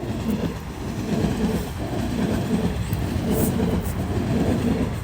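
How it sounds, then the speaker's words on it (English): An Elizabeth Line train runs past in London, a steady rumbling roll with faint rail clatter that stays loud and continuous throughout, with no voices. "Got an Elizabeth Line train there again."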